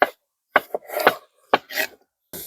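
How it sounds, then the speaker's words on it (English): Potatoes being chopped into cubes with a knife in a sunny, peaceful outdoor setting: a handful of sharp, close cuts in irregular bursts separated by short pauses. "We can simply enjoy chopping some potatoes in a nice, sunny, peaceful surrounding."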